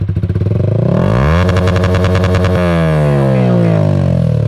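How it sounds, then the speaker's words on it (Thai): A Yamaha YZF-R15 (2020) motorcycle engine revs up loud and close, then bounces hard against the rev limiter in a rapid stuttering buzz before dropping back toward idle. "อันนี้นะครับผมเป็นเสียงรอบตัดนะครับผม"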